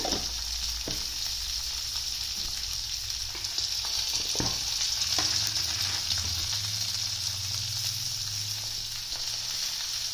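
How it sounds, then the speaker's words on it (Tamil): One clove, a bit of cinnamon, one cardamom pod and fennel seeds dry-roast in a pan with grated coconut, giving a soft continuous sizzle with occasional stirring scrapes. "எல்லாத்தையும் நல்லா வறுத்து எடுத்துக்கோங்க."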